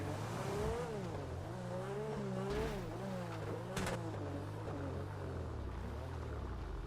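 Car engine in the video game GTA V, droning steadily with the pitch rising and falling as the car speeds up and slows down, plus a brief sharp burst near the middle. Nobody talks over it.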